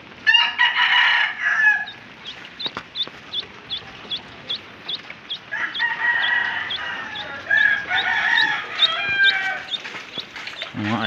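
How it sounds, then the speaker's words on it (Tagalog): Pet chickens cluck steadily around the yard while a rooster crows in a couple of loud bursts, the calls overlapping in a busy, close flock. "Mga alaga nating manok."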